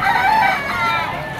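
A White Kelso bull stag gamefowl rooster, about a year old, crows loudly and close by in one sustained, wavering call that fills the whole moment, with no talk over it.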